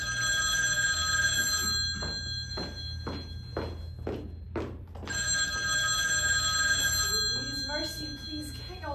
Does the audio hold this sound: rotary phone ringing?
yes